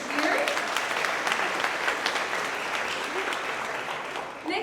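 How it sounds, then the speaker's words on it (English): A workplace crowd applauds an employee's six-year work anniversary at a monthly celebration, giving steady, dense clapping that holds for several seconds and then tapers slightly at the end. "we can still clap for him with 6 years"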